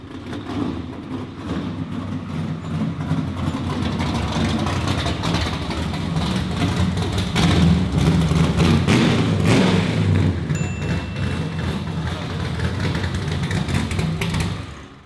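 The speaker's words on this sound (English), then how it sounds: "That was a little loud." 1968 Chevrolet Camaro drift build engine revving in a warehouse, a loud, rough rumble with repeated throttle blips and surges that builds and holds close by before easing off at the end.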